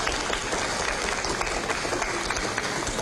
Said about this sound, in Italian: un applauso per la maestra Lucia